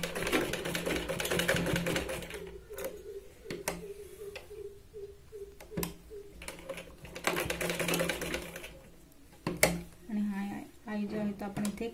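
Sewing machine running a straight stitch along the waistband of a big-size katori blouse, with bursts of rapid mechanical stitching alternating with pauses, mixed with a voice talking throughout.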